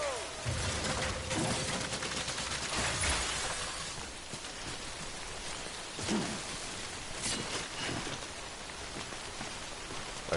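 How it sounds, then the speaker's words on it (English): Timefall rain in the game Death Stranding, a steady broadband hiss of falling drops that carries through the whole stretch, with a few sharper splashes and thuds rising out of it. "Well, now it's starting to rain."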